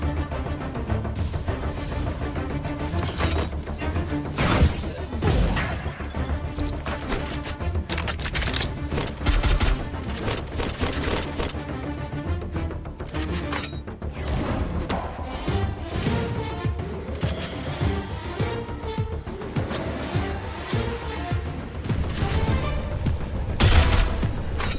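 Dense, rapid gunfire from the Free Fire mobile shooter game rattles almost nonstop in bursts and single shots, with occasional louder blasts and impacts, loud and busy throughout.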